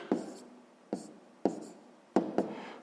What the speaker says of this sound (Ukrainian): Давайте запишемо відповідь. Пишемо відповідь.